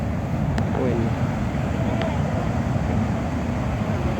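Sea waves rolling onto a shore at night, a steady low rumble of surf mixed with wind noise, with a couple of faint brief sounds in the background.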